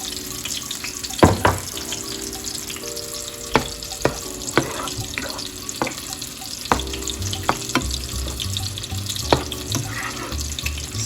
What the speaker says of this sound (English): So it's boiling now.